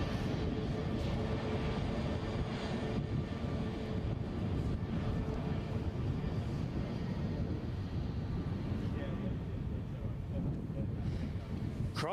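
An easyJet airliner at Edinburgh airport fills the scene with a steady, loud, low rumble that holds throughout, with gusts of wind buffeting the microphone and no talk.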